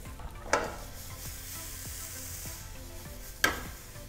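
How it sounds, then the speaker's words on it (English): Chopped onions are poured into a hot pan and fry with a soft, steady sizzle. Two sharper clatters cut through the quiet, even crackle, and no one talks. "immediately I'm going to start pouring my chopped onions here"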